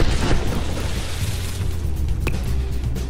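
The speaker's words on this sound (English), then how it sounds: "you can hear the secondary explosions going off as the explosive rounds go up" A steady, rumbling barrage of distant booming secondary explosions from ammunition aboard a battleship in From The Depths, with a few sharper pops, forming a continuous noisy roar without speech.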